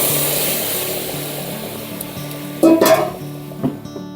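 Grated tamarind and tomato drop into hot oil with two bay leaves in a pan, setting off a sudden louder sizzle and splutter partway through over a steady background hiss.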